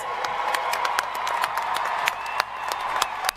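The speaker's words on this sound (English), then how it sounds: "One more round of applause for our graduates." Applause for graduates at a ceremony, a thin, moderate spread of clapping with distinct individual claps popping through a low crowd murmur.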